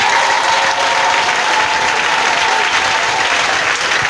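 An audience at a church Easter seminar bursts into loud, sustained applause with cheering, a dense continuous clatter of many hands close by.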